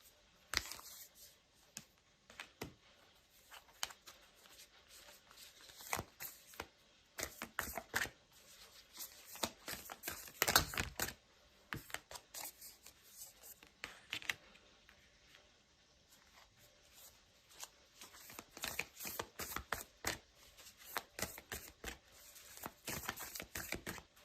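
Tarot cards being shuffled, a rapid run of crisp riffling clicks and soft flutters arriving in irregular bursts throughout, fairly close and moderately loud, with no talk over it.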